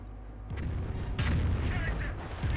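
A Nebelwerfer rocket artillery barrage in Company of Heroes 1 thumps and booms repeatedly under a low rumble, a series of loud impacts and blasts over about two and a half seconds.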